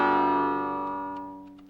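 Guitar notes ringing out and then damped by the heel of the hand at the bridge, a single open-sounding chord tone fading steadily as it is shut down, with a few faint taps near the end.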